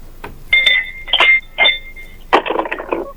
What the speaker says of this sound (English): I'm just ringing the bell.